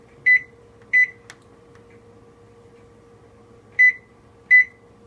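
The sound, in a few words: timer beeping as it is set for 60 minutes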